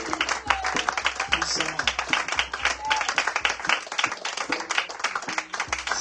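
A church congregation claps in quick rhythmic bursts throughout, fairly close and lively, mixed with a preacher's voice speaking over it.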